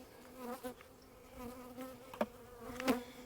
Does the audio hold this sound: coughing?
no